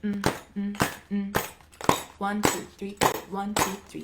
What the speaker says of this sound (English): So I would go like this with my tambourine.